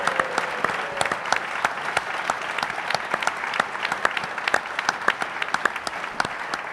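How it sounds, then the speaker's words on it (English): Live audience at a venue gives a guest a big round of applause, dense crowd clapping with crisp individual claps near the front, steady and lively throughout. "Give Steve McCall a big round of applause"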